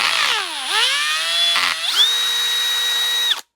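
A power drill boring a 3/8-inch hole in a car whines loudly up close, its pitch dipping as it bites in, pausing briefly, then spinning steadily at high speed before stopping abruptly.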